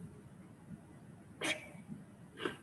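Two sharp sneezes burst out about a second apart against a quiet room background during a psychology lecture.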